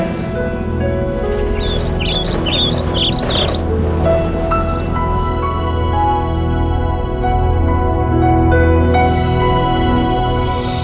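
Birds chirp in quick bright bursts early on, set against a dense, loud, continuous background of ambient sound and music-like tones.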